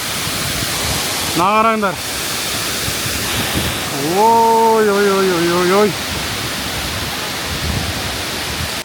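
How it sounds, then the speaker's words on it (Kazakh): A mountain waterfall in Georgia roars loud and steady, spray splashing close by, with a couple of short voices exclaiming over the constant rush. "Мынада су шашырап жатыр ғой бетіме деген."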